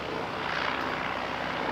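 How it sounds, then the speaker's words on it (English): A rescue helicopter flies overhead on a clear blue day, its rotor and engine making a steady, broad roar that stays constant and fairly distant. "Respect, rescue helicopter."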